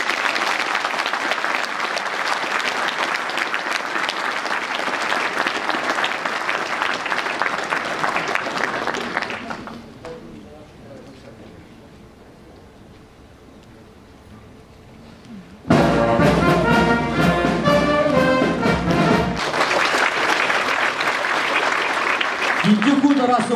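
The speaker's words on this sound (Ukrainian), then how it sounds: "Ваші оплески!" An audience applauds at an award ceremony honoring firefighters and rescuers at a university, loud sustained clapping that fades to quiet murmur mid-way, then bursts back up strongly.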